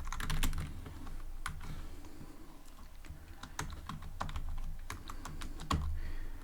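Python code typed on a computer keyboard, with rapid, close, irregular key clicks and a few heavier strokes, no voice.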